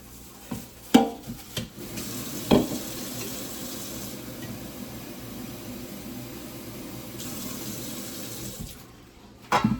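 Water runs and splashes into a bowl for making flat dumpling dough, a steady trickle with a few clunks and knocks of kitchen handling at the start and end.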